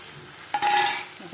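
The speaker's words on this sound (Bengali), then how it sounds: "এখন ভালো করে মশলাটাকে কষছি যতক্ষণ না তেল ছেড়ে আসছে।" A spice paste of cumin, coriander, ginger-garlic and tomato paste fries in oil. After a quiet start, a sudden burst of sizzling and spatula stirring rises close by, then slowly fades.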